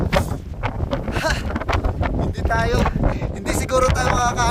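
Strong mountain wind buffets the microphone on the summit of Mount Olis in Atok, Benguet, with heavy low rumbling gusts throughout while people talk and exclaim close by.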